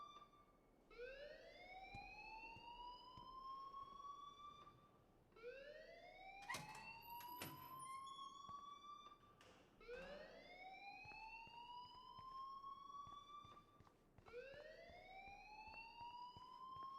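School alarm at Blackwell in the game Life is Strange, a rising electronic wail that repeats four times at an even pace, moderately loud and alone with no talk.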